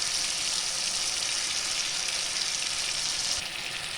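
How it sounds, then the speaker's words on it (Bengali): A ground spice paste hits a hot pan and sizzles steadily and loudly, a bright continuous frying hiss that eases slightly near the end, with no voices. "এবার আমি বাটা মশলাটা দিয়ে দেবো"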